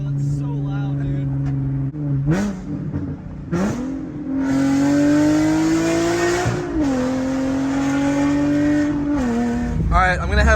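Infiniti G37 fitted with a Tomei ExpremeTi exhaust and test pipes, its engine revving hard and loud from inside the car, pitch climbing and dropping through several gear changes with a raspy, droning exhaust tone.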